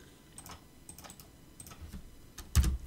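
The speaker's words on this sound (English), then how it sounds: "You can also type this." Keystrokes on a computer keyboard as a command is typed on an Ubuntu Linux machine running GNOME, a quiet, irregular run of light taps ending in a louder cluster of clicks near the end.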